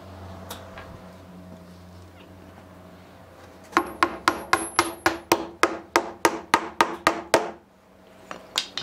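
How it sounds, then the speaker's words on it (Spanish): Quick, regular metallic taps and clinks come in a steady burst of a dozen or so close hits as a lock washer and nut are fitted onto a bunk bed frame. "Por el otro lado vamos a meter una rondana de presión con una tuerca"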